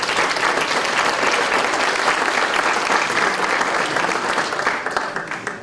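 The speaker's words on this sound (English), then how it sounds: "Give Rose a round of applause." An audience at a community hometown heroes awards ceremony in Romulus applauds an honoree, a loud, continuous wash of many hands clapping that tapers slightly at the close.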